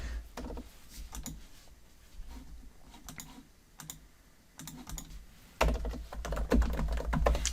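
Close computer keyboard typing while entering commands in a terminal: bursts of quick key clicks separated by short pauses, growing louder and heavier toward the end, with no talking.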